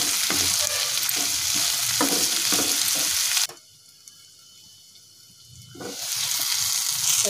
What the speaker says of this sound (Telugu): పసుపు, కరివేపాకు వేసుకొని ఇవన్నీ వెజిటేబుల్స్ అన్నీ ఫ్రై అయ్యే వరకు ఫ్రై చేసుకోవాలి